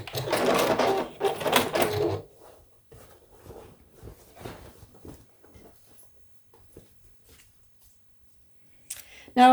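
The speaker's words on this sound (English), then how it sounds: "I'm just going to do my 1/4 inch seam" A sewing machine runs a quarter-inch seam joining Christmas tree quilt squares, a dense close burst for about two seconds, then faint light tapping and handling noises before another brief loud burst at the end.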